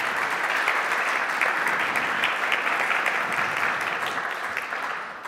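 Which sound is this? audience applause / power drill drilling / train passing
audience applause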